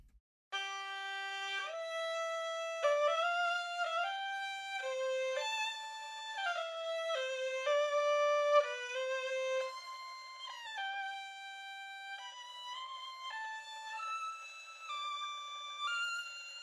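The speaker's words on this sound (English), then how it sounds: "So the gohu sounds something like this." A bright, nasal gaohu, a bowed Chinese fiddle, plays a slow melody with sliding notes and sustained tones, solo and close, from an orchestral sample library.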